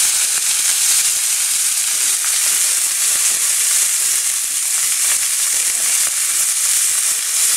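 Roast beef searing in a hot pan gives a loud, steady, dense sizzle that holds without a break, with no talking over it.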